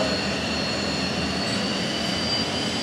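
F-16 fighter jet engine throttling up in a flight simulation, a loud steady broadband roar with a high whine, continuous and close, no talk.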